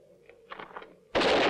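A gunshot bursts out loudly in a Western film, a sudden broad blast after a quiet stretch of faint movement and murmur, ringing on to the end.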